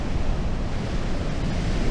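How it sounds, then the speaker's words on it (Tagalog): Strong ocean waves at the shore in Dingalan, Aurora, heard as a dense, steady roar of surf, loud and continuous without distinct breaks, with no talking. "hindi naman daw palaging ganito na malakas yung alon"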